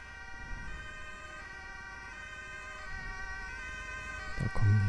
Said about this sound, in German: Da kommen die Rettungswagen von beiden Seiten.